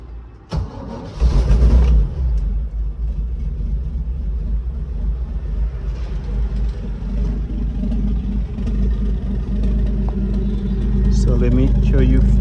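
A 1961 Toyota FJ40 restomod engine cranks and catches cold, then settles into a loud, rumbling idle with a gritty exhaust note through a stainless steel exhaust, steady and close.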